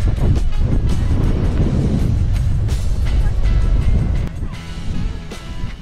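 Strong wind on the Yorke Peninsula buffets the microphone with a constant low roar, easing slightly near the end.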